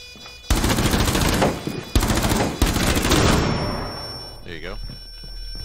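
Heavy automatic gunfire in Rainbow Six Siege as a player shoots a deployed diffuser, long loud bursts separated by brief pauses, then tapering into quieter game sounds.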